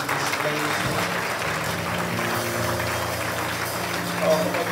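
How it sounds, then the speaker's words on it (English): A church congregation claps hands together at a Sunday service, a continuous wash of clapping under background music and voices. "clap your hands and say amen"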